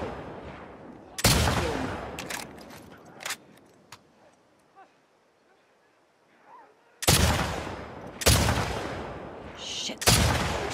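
Loud gunshots in The Last of Us Part II, about five sharp reports spaced several seconds apart with quiet stretches between them, each followed by a brief decaying tail.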